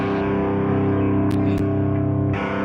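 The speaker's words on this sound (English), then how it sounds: "I hear a long dangly reverb" A processed sustained tone carries a long reverb tail through effects units, with distortion coloring it and a couple of brief clicks breaking through.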